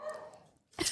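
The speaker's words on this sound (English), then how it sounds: "He just gets a whiff that something's going on and he starts barking." Short sharp dog bark bursting in loud at the end after a quieter stretch of background noise, from a pet dog in a home setting.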